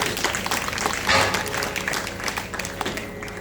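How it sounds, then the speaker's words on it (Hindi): Audience at a Hindu religious discourse clapping together in a lively, uneven burst of hand claps, moderately close and rising to a peak before tapering off, with faint voices underneath. "बजाओ ताली जरा जोर।"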